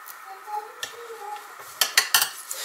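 Small scissors snip the protruding threads of a sewing craft, a few faint handling noises followed by three or four sharp close-up metallic cuts in quick succession.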